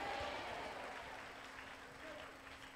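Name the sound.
congregation clapping loudly at a church prayer service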